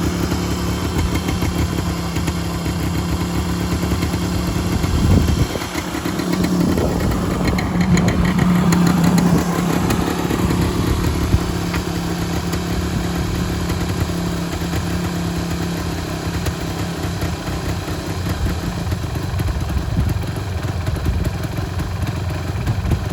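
A rare two-stroke trail bike engine runs steadily for over twenty seconds, a close, continuous buzzing idle with a slight rise in the middle, with no talking.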